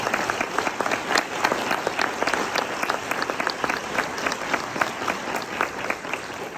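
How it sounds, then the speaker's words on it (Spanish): Steady audience applause at a coffee event in Milan, sustained dense clapping at an even level throughout with no clear voices over it. "pido un aplauso para él"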